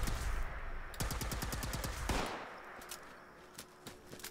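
Gunfire from Blood Eagles raiders in Fallout 76, a loud rapid burst of automatic shots for about two seconds, then a quieter stretch with a few scattered distant shots.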